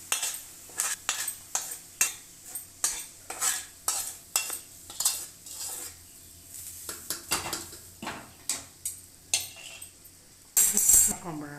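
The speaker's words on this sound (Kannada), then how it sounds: "ಇವಾಗ ಒಗ್ಗರಣೆಗೆ ಸೇರಿಸ್ಕೊತಾ ಇದ್ದೀನಿ" Ingredients stirred into a sizzling tempering for bisi bele bath, a steady series of close spoon scrapes and clinks against the pan with a faint frying hiss beneath.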